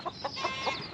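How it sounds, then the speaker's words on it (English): Farm chickens near a mobile chicken coop in a field give soft, evenly spaced clucks, about four in a second, faint against a steady background. "the chickens are doing real well down here"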